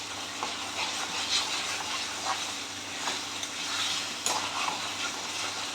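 Chicken keema stirred in a pan as it cooks, with a steady soft sizzle and scattered scraping and stirring clatter, one sharper clank near the end, no voices.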